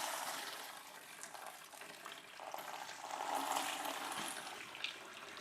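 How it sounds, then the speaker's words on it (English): Coolant gushing out of a 1.7L Honda Civic engine into a drain pan: a continuous, fairly soft wash of splashing liquid that swells slightly partway through and carries on without a break. "Now we should make some coolant noise."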